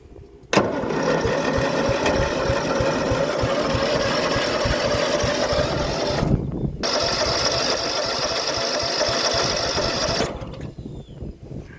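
A small mower engine, freshly dosed with fuel system cleaner, cranks and runs with a loud, steady buzzing roar for about ten seconds, dipping briefly midway before cutting out.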